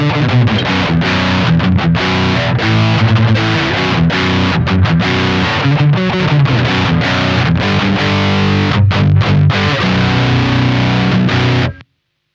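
Heavily distorted electric guitar chords play steadily with a muffled, dark tone lacking top-end brightness, then cut off abruptly at the end.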